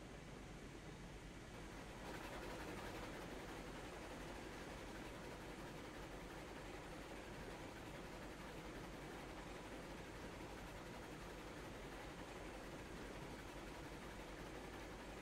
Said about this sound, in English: The train is going to be on three switches at once.